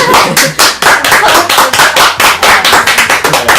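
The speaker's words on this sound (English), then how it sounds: "Round of applause, everyone!" A loud, close round of audience applause fills the room, dense rapid clapping in steady surges that continue for several seconds with no talk over it.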